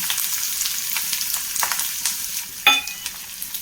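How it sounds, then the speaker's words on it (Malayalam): Sliced onion sizzles in a hot pan with a steady crackle while making a Kerala-style side dish, broken by scraping stirs and a sharp clink of a spoon against the pan. "ചട്ടി ചൂടായിട്ടുണ്ട് ഒരു സവോള ഇരിഞ്ഞത് കൊടുക്കണം"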